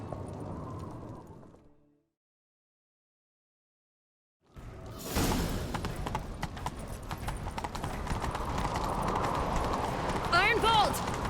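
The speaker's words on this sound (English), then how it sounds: "Grab a horse, we'll chase him down." Galloping horse hooves in The Witcher 3, a steady clip-clop rhythm that starts abruptly after a silent gap and runs loud and continuous, with game voices talking over it.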